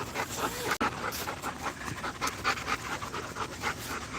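A dog in a yard pants rapidly and continuously at close range, with quick breathy huffs throughout and no talking.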